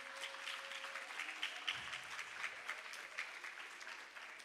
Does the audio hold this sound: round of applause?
yes